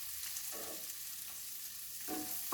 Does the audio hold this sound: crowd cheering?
no